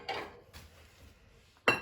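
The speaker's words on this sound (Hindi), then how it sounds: "अब हम इन सब चीज़ों को मिक्स करेंगे।" Chana chaat ingredients mixed in a bowl with a spoon, giving a few soft scrapes and a sharper clink at the end, close and fairly quiet with no speech.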